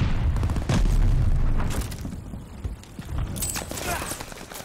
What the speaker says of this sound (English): Is that an actual frag there?